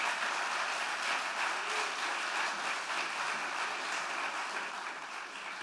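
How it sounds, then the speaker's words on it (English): Sustained applause from a large audience at a graduation ceremony, a full, even wash of clapping that holds steady throughout. "I really would like to give you a heartfelt round of applause"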